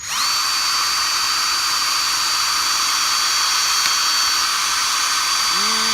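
A handheld drill bores a tap hole into a maple tree trunk with a bit sized to the spile, a steady, loud whine that runs unbroken from start to finish with a slight pitch shift near the end.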